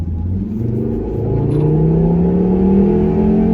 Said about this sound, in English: So, bit of acceleration, shall we?